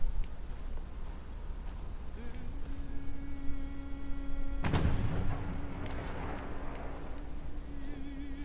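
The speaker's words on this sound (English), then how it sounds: "What's that explosion?" A sudden explosion bursts out midway through Battlefield 1 gameplay, a sharp broadband blast over steady game ambience and a sustained mechanical tone, ringing briefly before settling back to background noise.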